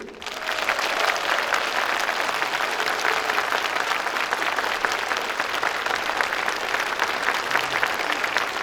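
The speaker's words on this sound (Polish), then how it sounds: "widzów, mam nadzieję, rzęsistymi oklaskami przywitają jakże serdeczni, gościnni, wspaniali mieszkańcy Głuszycy" Dense, sustained applause from a concert audience in Głuszyca fills the whole stretch, loud and even, without a break.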